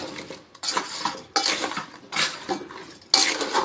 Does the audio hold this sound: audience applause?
no